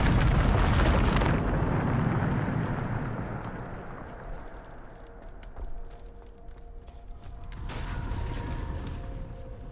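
A Bombarda spell explosion in Hogwarts Legacy bursts with a loud, booming blast, rumbles and fades over several seconds, then swells again with a second, softer surge of debris.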